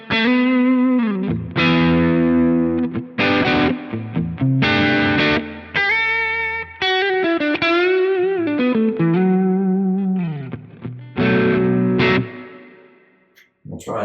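Schecter MV6 electric guitar on the neck pickup with gain added, playing distorted sustained notes and chords with effects, loud and continuous with brief pauses, no talk.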